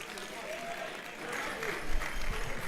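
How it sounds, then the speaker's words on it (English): An audience at a corporate gas-industry event applauds, a steady wash of clapping at moderate level, with some movement and muffled low thumps toward the end. "Let's give a round of applause even as it comes."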